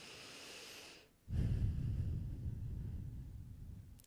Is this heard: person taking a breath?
yes